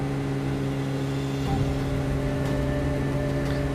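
A video game vehicle engine drones steadily at close range, with a sustained mid-pitched motor hum and a slight rise in revs partway through, and no talk.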